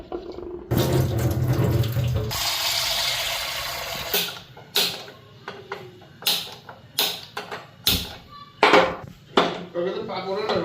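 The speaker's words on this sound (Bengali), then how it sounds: "ডালটা ভালো করে ধুয়ে নিতেছি।" Mung dal lentils washed in water in a pot, with running tap water at first, then a series of separate sloshing, clinking splashes and pot knocks, close up, with no voices.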